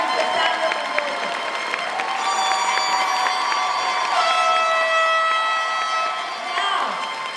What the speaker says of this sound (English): how about a nice round of applause for Melissa Valdez and Cassandra Mendoza